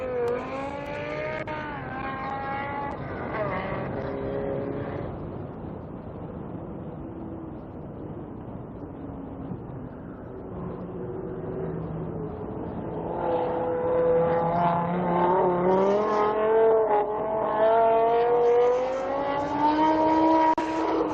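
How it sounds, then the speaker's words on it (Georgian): Fiat 500 Turbo race car engines rev and drone continuously as drivers warm up their tyres, pitch rising and falling, growing louder and more layered in the second half. "აცხელებენ საბურავებს მონაწილეები"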